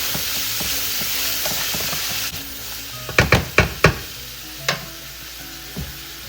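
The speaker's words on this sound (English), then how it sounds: "We'll start sauteing them." Oxtail stew ingredients sauté in a pan with a steady low sizzle, broken by a run of four or five sharp clanks and stirring knocks near the middle, then a couple of softer scrapes.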